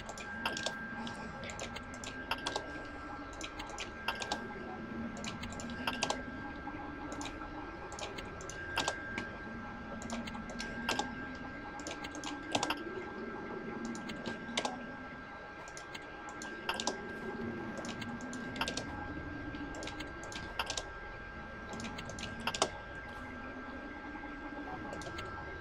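Keyboard keys and mouse buttons click steadily while playing Roblox, a brisk irregular patter of close, fairly faint taps over a soft constant hum, with brief pauses between bursts.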